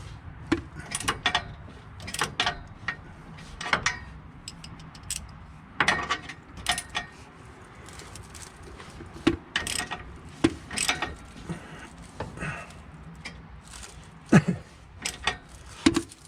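A wrench works at a stuck bolt on a 1965 Ford Falcon, giving bursts of clicking ratchet strokes and metallic creaks in irregular spells, close up with no talk.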